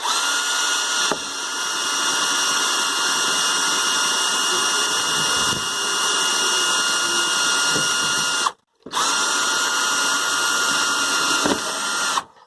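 A power drill bores down through a stack of plastic buckets for allotment growing, a loud steady whine running for several seconds, cutting out briefly near the end before starting again.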